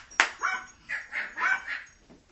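A dog barks and yips several times in short separated bursts, fairly close and clear, with no talk over it.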